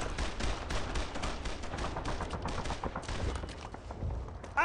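Machine gun fire in the World War II shooter Brothers in Arms: dense, rapid bursts of automatic gunfire overlapping with scattered rifle shots, loud and continuous through the battle, with no talking.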